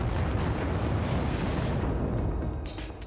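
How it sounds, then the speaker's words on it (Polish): A broad, rumbling supernova explosion sound effect swells and sustains as a dense roar, then slowly tapers off. "A także do eksplozji supernowych."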